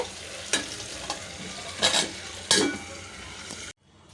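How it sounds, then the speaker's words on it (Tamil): Tomatoes sizzle in hot oil while a spoon stirs them, with a steady frying hiss and several scraping knocks against the pan. The sound then cuts to silence. "நடுவில் ஒரு தடவை இந்த மாதிரி நல்லா அப்படியே அந்த எண்ணெயிலே நல்லா வதங்குற மாதிரி அப்படியே கலந்து விட்டுக்கலாம்"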